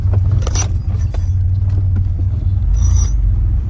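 A Porsche 911 engine idles after a test drive, a steady deep rumble throughout with brief higher mechanical ticks and clinks layered on top, loud and close.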